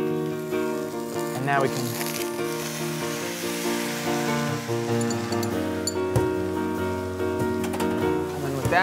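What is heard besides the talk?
bok choy stir-frying in a pan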